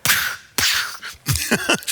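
A voice imitates rapid modern gunfire with a series of sharp percussive bursts, a few isolated blasts and then a quicker cluster, loud and close.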